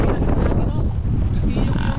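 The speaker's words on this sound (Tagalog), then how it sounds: "malaking lakas talaga ng hangin." Strong, steady wind buffets the microphone over open water, a continuous low roar with choppy rumbling throughout.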